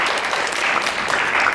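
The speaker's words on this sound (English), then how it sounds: "Give him a big round of applause," An audience at a University of Nebraska–Lincoln Phi Gamma Delta fraternity gathering claps together, a dense, loud, steady patter of hands that keeps going without any break.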